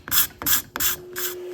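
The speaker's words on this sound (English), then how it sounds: "card scraper works pretty well for end grain if it's sharp" A card scraper rasps across the end grain of a wooden axe handle made from rived lumber in four quick, close strokes with a steady rhythm and no talk.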